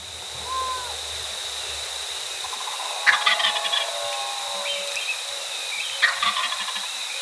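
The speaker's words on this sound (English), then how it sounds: "a gobbler rang out across the pasture" Wild turkey gobbler gobbling across a pasture at first light on a Florida spring hunt: two distant rattling gobbles a few seconds apart over a steady outdoor background hum.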